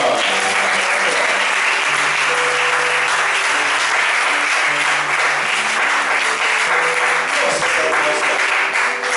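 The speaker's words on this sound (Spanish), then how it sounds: "¿Cuánto le damos un fuerte aplauso al Señor?" A congregation at a Friday revival church service applauding loudly and continuously, a thick wash of clapping with scattered voices and a low hum beneath.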